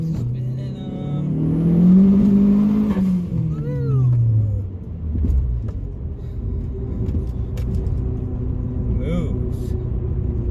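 A car on freshly fitted Toyo Proxes R888R tires revs hard as its wheels spin, a loud engine rumble rising and falling over about ten seconds, then settling into a steady drone.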